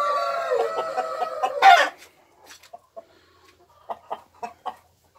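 Ayam Cemani chickens at a breeding farm: a rooster's drawn-out crow opens loud and near, ending in a sharp rise, followed by quiet scattered clucks and short calls spaced apart.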